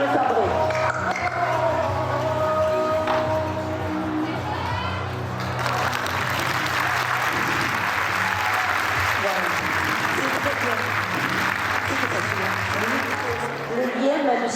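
Audience at a horse show in Albi applauding a horse, a sustained wash of clapping that swells after a few seconds and continues, with scattered voices and earlier tonal sounds underneath.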